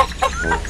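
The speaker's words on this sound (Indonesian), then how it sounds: "Ayam, ayam. Kunci pintunya, ayam." A chicken in the video game Dude Simulator clucks in a few short, close bursts against a quiet background.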